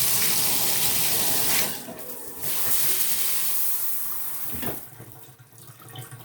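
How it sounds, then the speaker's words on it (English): Bathtub shower running just after a faucet repair, a steady broadband hiss of spraying water that briefly dips and surges a couple of times, close and fairly loud, with no voices. "The shower kicked on when I pulled up the little stopper"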